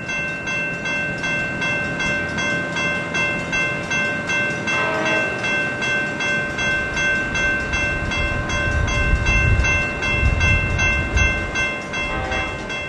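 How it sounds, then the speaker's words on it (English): A freight train and an ACE commuter train pass each other near East Weber Street, with sustained rail rumble, tonal wheel and horn-like lines, and a heavier low rush building later as cars roll by. "The freight, heading for the BNSF crossing to the south, gets underway again as the Ace train crosses East Weber Street."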